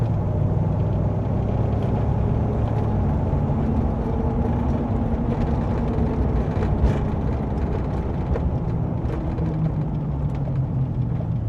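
A car with newly fitted brake pads cruising at about 60, producing a steady, loud low rumble of engine and road noise from inside the cabin, unbroken throughout.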